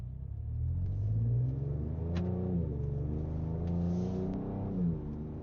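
A Ford Ranger Raptor pickup accelerates, the engine note rising and falling through gear changes in a steady mid-level rumble heard from inside the cab, with no talking.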